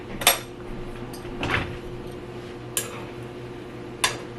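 Metal chopsticks stir food in a bowl, giving four sharp, faint clinks spaced a second or so apart against a quiet room.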